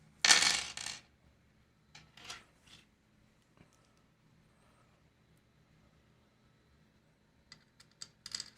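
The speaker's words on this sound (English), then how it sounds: "So let's get our step 2 screws out. And we've got 8 screws here." Small metal screws for an Atomstack A5 Pro laser engraver are tipped out of their packaging, giving a loud jingling rattle at the start, then a few scattered clinks and a final cluster of faint clicks close by in a quiet room.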